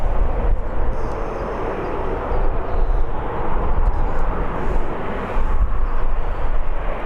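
An EasyJet airliner at Birmingham airport sends a loud, close, rumbling engine roar, steady and heavy in the low end for the whole stretch.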